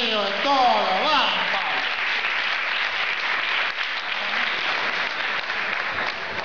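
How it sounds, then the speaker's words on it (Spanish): Applause and cheering from a crowd at a party or dance, loud and steady, with a voice talking over it at the start. "Un aplauso a un gran amigo de todo, vamos."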